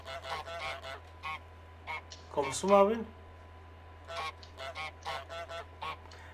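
A goose honks in Untitled Goose Game, one loud, rising honk in the middle with a person talking before and after it over a low steady hum.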